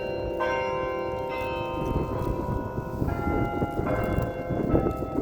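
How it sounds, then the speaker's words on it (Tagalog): A large church bell rings out on Palm Sunday in several spaced, resonant strikes whose tones linger, over a steady wash of outdoor crowd noise. "Lalaki ng bell dyan sa taas."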